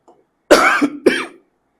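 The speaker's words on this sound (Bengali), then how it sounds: "সরি আমার কাশি হচ্ছে" Two loud, close, harsh coughs in quick succession from one person, then silence.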